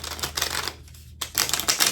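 A deck of tarot cards being shuffled, with rapid riffling bursts of papery clicks separated by a brief pause, close and fairly loud.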